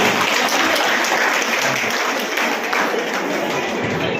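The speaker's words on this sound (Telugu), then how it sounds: "గట్టిగా అందరం చప్పట్లతో స్వాగతం పలకాలి అక్కడికి" Sustained, dense applause from a celebration audience welcoming a guest, steady and loud for the whole stretch with crowd noise blended in and no break.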